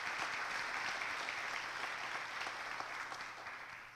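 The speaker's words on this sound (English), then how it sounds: "let's give them a big round of applause for that work" An auditorium audience at a county education event gives the presenters a steady, sustained round of applause, dense and even, slowly tapering toward the end.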